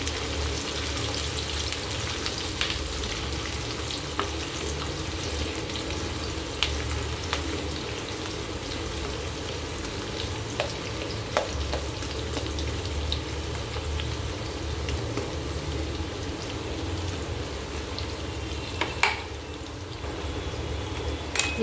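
Green chillies and vegetables sauté in a pan for fried rice, giving a steady, low sizzle with scattered small pops and crackles throughout, close up and with no talking.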